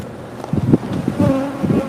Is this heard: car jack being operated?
no